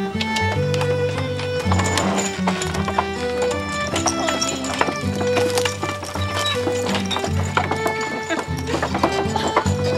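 Horses clip-clop at a steady walk on a ride, hooves beating in a regular rhythm close by, with a whinny rising now and then over a busy background of other sound.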